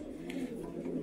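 Pigeons in a breeding loft with stock cocks and breeders, giving a low, steady cooing murmur that runs continuously through the whole moment at close range.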